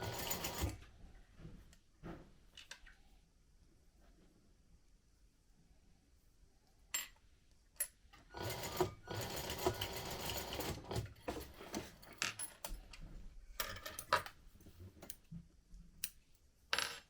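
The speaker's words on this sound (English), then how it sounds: "So just going to stitch that and then set it aside." Sewing machine stitching pieces of a crossbody bag, with short bursts of mechanical whirring and clatter between pauses, growing busier and more continuous in the second half, with a few small metallic clinks.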